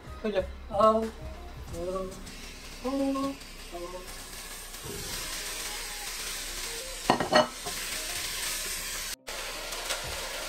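Chicken and vegetables sauté in a pot for Czech chicken paprikash, a steady sizzle and hiss with stirring scrapes, voices briefly over it at the start.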